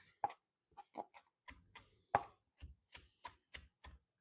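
A kitchen knife chops fresh basil on a cutting board for creamy tomato basil soup, giving about a dozen crisp, close knocks in a loose, uneven rhythm with short silences between strikes.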